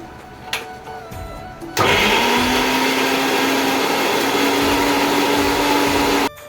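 A mixer grinder whirs loud and steady for several seconds while making garlic paste, starting abruptly after a few quiet clicks and cutting off sharply at the end.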